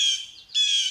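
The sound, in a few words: pet bird making nasal squawking sounds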